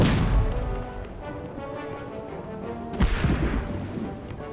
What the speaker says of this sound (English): Quickly, fire the cannon.